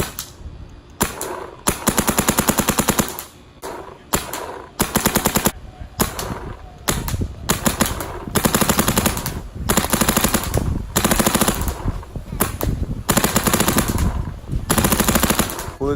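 Mini GS paintball gun firing in rapid bursts of loud, close shots with brief pauses between volleys, the shots running together into near-continuous rattling.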